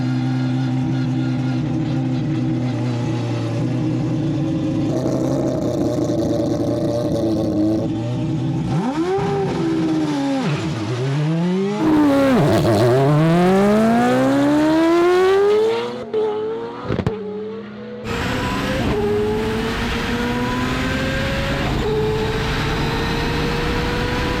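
A big-turbo four-rotor car with around 2000 horsepower accelerating hard, its loud engine rising in pitch through several gear shifts with brief drops between them, close and dominant.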